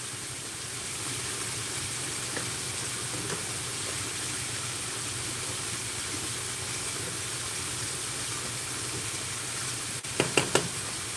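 Food frying on a stovetop on a Sunday morning, giving a steady, even sizzle that runs unbroken, with a few small clicks near the end.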